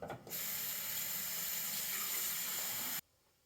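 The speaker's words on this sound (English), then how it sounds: "I'm going to wash it off with warm water" A charcoal aquarium filter being rinsed under warm tap water, with a loud, steady rush of running water that starts abruptly and cuts off cleanly after about three seconds.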